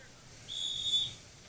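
A referee's whistle at a freshman high school football game sounds as a single sustained, fairly faint blast lasting about half a second, rising out of low crowd and field noise.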